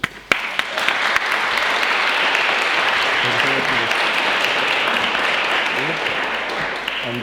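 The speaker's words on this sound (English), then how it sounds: "I'd like to thank you all for coming, and round of applause for Rhys." Loud, sustained applause from a large audience starts abruptly and continues evenly throughout, with a few scattered voices underneath.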